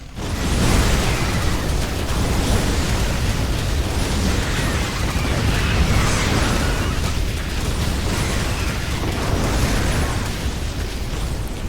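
StarCraft battle of hellions against zerglings, a steady roar of overlapping fiery bursts and explosions with no pauses, loud and dense throughout.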